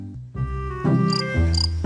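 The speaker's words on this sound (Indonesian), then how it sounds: "yang pertama adalah jangkrik." A cricket chirps in loud, close bursts of shrill buzzing trills, with steady tonal hums running underneath and no voices.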